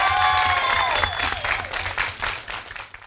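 Studio audience applauding the judges on a children's acting talent show, a dense burst of clapping that fills the room and slowly thins out, with a few cheers mixed in.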